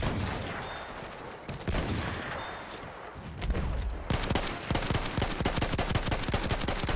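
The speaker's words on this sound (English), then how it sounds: "Oh no, we're getting shot from up here too." Sustained machine-gun fire in Battlefield 1, dense overlapping bursts and a rapid steady rattle of shots near and loud, continuing without letup through the whole stretch.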